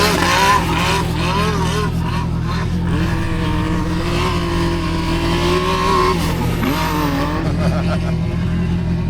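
An off-road UTV at a UTV Takeover event roars past with a loud, sustained engine drone that swells and dips over several seconds, with a busy outdoor background.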